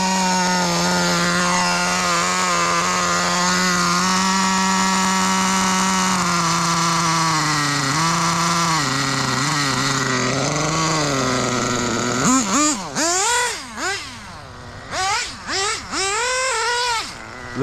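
The small engine of a budget pro-level nitro RC car idles with a loud, buzzing drone close by, then revs in sharp rising and falling bursts toward the end.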